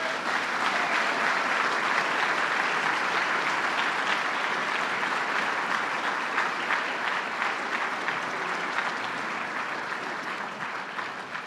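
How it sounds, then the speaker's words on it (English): Sustained applause from a large crowd at a governor's announcement event in Syracuse, steady and dense clapping throughout, tapering slightly toward the end. "please give a warm round of applause to my good friend, Ben Walsh."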